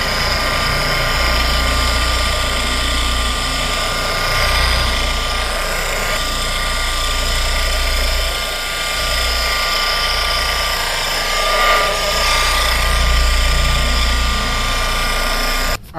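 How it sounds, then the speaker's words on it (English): A cordless SPTA polisher whirs steadily while machine-applying paint sealant to a 1955 Chevy, a loud continuous motor drone with a slight rising and falling tone and no voices. "This is my favorite machine applied sealant. I got it on my SPTA cordless polisher."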